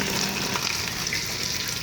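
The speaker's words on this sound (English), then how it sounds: "I've also re-seasoned this side, so you can hear it really sizzling." Steady, close sizzling and crackling of chicken thighs browning in a hot Ninja Foodi pot on medium-high, a continuous bright hiss with no talking.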